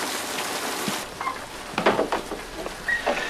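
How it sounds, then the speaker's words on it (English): Soft, steady rain hiss with scattered patters and drips, fairly quiet and continuous. "I didn't hear you in all this rain"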